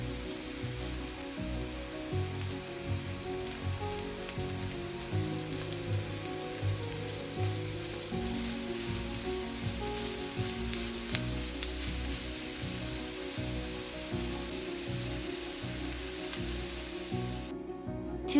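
Grated carrot frying with onion in a pan gives a strong, steady crackling sizzle throughout, close and continuous with faint stirring scrapes, ending with a brief clunk.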